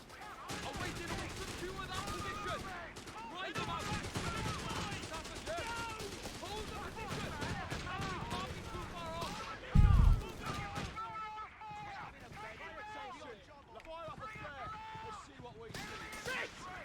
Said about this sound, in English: Enemy fire! Cover his position!